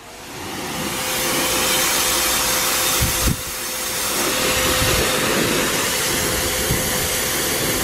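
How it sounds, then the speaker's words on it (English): A pressure washer sprays a vehicle to remove love bugs. It gives a loud, steady, close hiss that builds in over the first second and continues with one brief hitch midway. "Now obviously, pressure wash your vehicle at your own risk."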